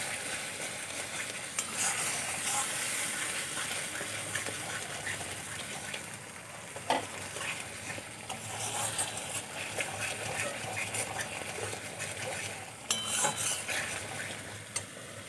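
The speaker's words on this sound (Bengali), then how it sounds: "হলুদ, খুব ভালো করে মশলা আমি কষিয়ে নেব" Spices with turmeric sautéing in a pan, a steady close sizzle with intermittent scraping stirs and clicks of the utensil, fairly soft and continuous.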